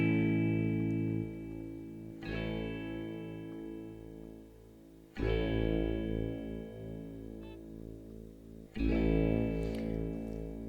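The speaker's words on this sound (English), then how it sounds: "we also start to hear Scirocco's tone control distortion" Guitar notes run through the Scirocco pedal with its tone control turned to heavy settings, giving a distorted, sustained buzz. Three separate chords are struck and left to ring, each one fading slowly before the next.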